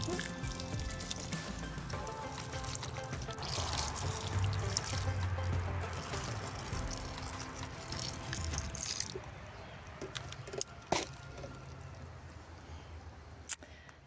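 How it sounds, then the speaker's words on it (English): Water pours and trickles from a makeshift container onto young garden plants, a close, continuous splashing stream that thins into scattered drips near the end. "It is not a fancy watering can, but it will work"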